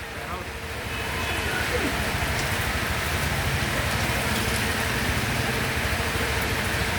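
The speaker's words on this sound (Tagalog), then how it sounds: "lakas ng ulan no?" Heavy rain pouring steadily, a dense continuous roar of drops hitting surfaces that swells in the first second and holds loud throughout, with voices faintly underneath.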